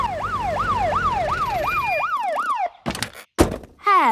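A wailing cartoon police siren from Peppa Pig sweeps up and down in a fast repeating yelp, loud and close, then breaks off into a few sharp thumps and bursts.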